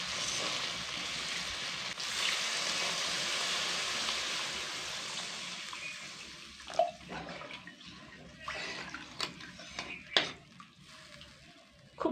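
Water pours into a pan of spiced Bengali vegetarian cabbage curry to make gravy, a steady broad rush for several seconds that thins out, followed by scattered clinks and taps from the pan.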